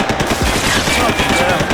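Rapid bursts of automatic gunfire crackle continuously through a Max Payne 3 firefight, loud and dense with overlapping shots and faint voices mixed in underneath.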